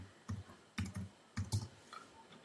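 Typing on a computer keyboard while entering text in a Mac paint program: a few quiet, close key clicks in small irregular clusters over a soft room hiss, with no voice.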